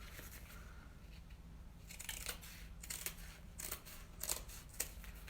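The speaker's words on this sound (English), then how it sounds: "I'm going to cut the other little tree" Scissors snipping a small tree shape out of cardstock, a series of faint, crisp cuts in a quiet room, with no talking.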